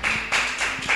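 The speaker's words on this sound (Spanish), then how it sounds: "Dele ese fuerte aplauso, papito Dios." A church congregation bursts into applause during a worship service, with a quick run of loud, dense clapping that swells in short waves over one second.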